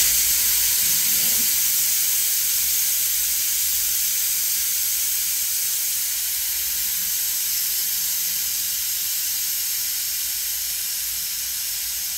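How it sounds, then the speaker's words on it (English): Steam hissing from a pressure cooker as its pressure is released, a loud continuous close jet of hiss holding steady from start to finish. "We can release some pressure."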